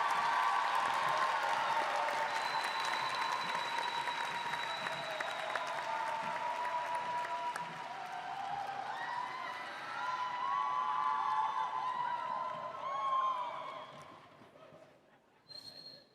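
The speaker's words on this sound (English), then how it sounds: "Please join me in a round of applause for the Master of Entertainment Industry Management students." Sustained audience applause at a university graduation hooding and diploma ceremony, steady clapping from a large crowd filling the hall for about fourteen seconds before fading out.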